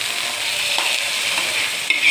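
Mustard seeds and other tempering spices sizzle steadily in hot oil in a pan for millet curd rice, a continuous close crackling hiss with no voices.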